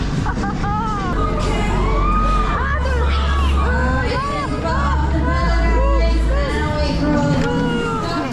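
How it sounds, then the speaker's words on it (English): Bumper cars on the Anthem of the Seas cruise ship, with a woman screaming and shrieking repeatedly over a loud electric hum, amid crowd babble and shouting from other riders. "Here I am on the bumper cars on the Anthem of the Seas."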